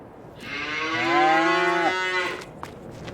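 A cow in the Farming Simulator 22 video game gives a single loud, drawn-out moo lasting about two seconds, followed by a few faint clicks.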